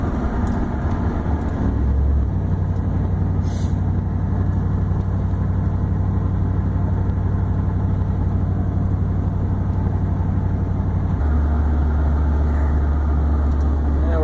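A pickup truck engine running on wood gas hums steadily and loudly for the whole stretch, with a deep, even drone that shifts slightly in pitch partway through. No one speaks over it.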